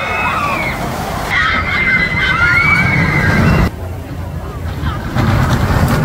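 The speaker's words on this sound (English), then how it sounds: "This one might sting a little bit in the rain, getting launched at 66 miles an hour directly into water." Water splashing and sloshing on the Rita launch coaster at Alton Towers in the rain, a loud, continuous rush of spray and ride noise with voices and crowd chatter mixed in.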